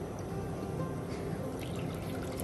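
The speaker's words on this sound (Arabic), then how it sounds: "ودلوقتي هنحط كوبايه خل زي ما حطينا كوبايه ميه" A cup of vinegar pours into a cooking pot for a koshari sauce, a steady close liquid stream running for a couple of seconds with no talk.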